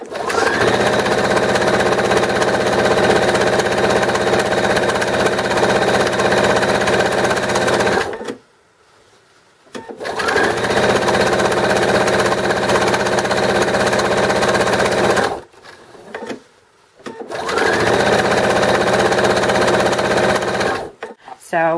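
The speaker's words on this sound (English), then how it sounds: "If you start too close to the corner here, it's harder to sew it closed" A sewing machine stitches fabric drool pads, running in three long bursts of rapid, rattling stitching with short pauses between them. The sound is loud and close.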